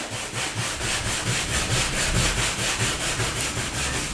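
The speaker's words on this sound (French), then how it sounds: "Je frotte en appuyant." Someone presses down while rubbing along the edge of a wooden shelf, making a steady, rhythmic back-and-forth scraping that carries on continuously at close range with no voices.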